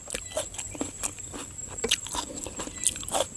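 Someone eating papaya salad with pickled shrimp outdoors in an open field, making close, crunchy chewing and biting sounds in an irregular rhythm with no talking.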